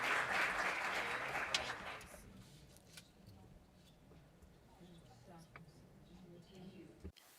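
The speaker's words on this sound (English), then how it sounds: "I'd like to thank him and acknowledge through applause the excellence of his work." Applause in the chamber of an executive committee session: a dense burst of clapping fills the first two seconds, then fades away into quieter room noise with scattered voices.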